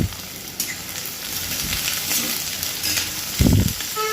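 Onion frying in hot oil for a bitter gourd (karela) stir-fry, a steady close sizzle with a louder scrape or stir near the end, no talking.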